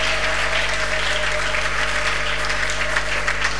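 A congregation applauds steadily at a Sunday church service, with a dense, even wash of clapping held at one level throughout and a faint electrical hum underneath.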